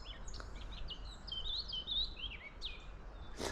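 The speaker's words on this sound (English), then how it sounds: "it sounds kind of like blackbird, but higher pitched and faster" A blackcap sings a fast, high-pitched, flute-like warbling phrase in spring, clear over faint outdoor ambience, ending with a brief rustle, with no talking.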